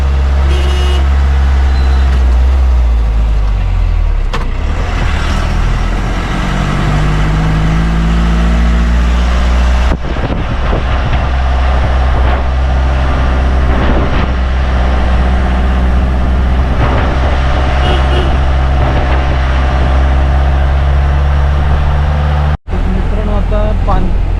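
An old truck carrying cement rumbles along a bumpy rural road near Panshet, with a loud steady engine drone, jolts and rattles throughout, while someone talks over it.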